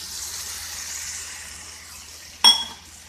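One and a half cups of water go into a pan of frying spiced vadi and potato curry, a soft steady hiss and sizzle that swells into a sharp metallic clink and splash near the end.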